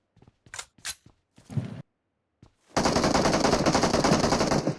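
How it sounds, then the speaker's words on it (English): PUBG Mobile gunfire, with a few sharp isolated shots and short bursts followed by a long, loud, sustained burst of automatic fire from a machine gun. "some more shots being heard coming from Yasnaya's side"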